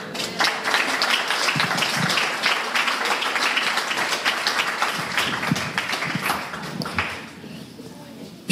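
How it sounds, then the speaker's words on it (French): Sustained applause from a church congregation, steady clapping over several seconds that fades toward the end. "S'il vous reste quelques applaudissements, on va en donner à Jésus, parce que c'est lui qui en est digne."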